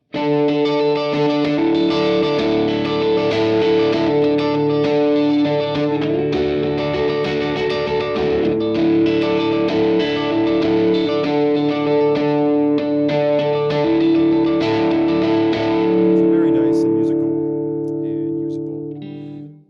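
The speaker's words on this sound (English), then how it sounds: "you can really hear that sort of single coil chiminess to them" A Reverend AirSonic W electric guitar with a bright, chiming single-coil tone plays ringing chords continuously, layered with chorus-like shimmer and light overdrive, close and steady throughout.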